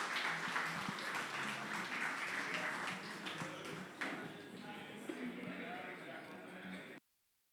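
Applause from an audience at a Cloud Native Costa Rica tech meetup welcoming a speaker to the stage, a broad wash of clapping with some crowd voices, fading and cutting off abruptly near the end.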